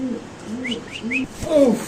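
Soft cooing from a red beauty pigeon, a few short rising calls in a row followed by a louder warbling coo near the end, close by against faint background noise.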